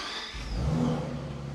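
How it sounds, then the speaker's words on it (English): A Brabus V12 engine in a custom cabriolet starting up, a brief starter whir followed by the engine catching into a loud, close, deep rumbling idle, with no talking. "I love the sound of starting up a V12."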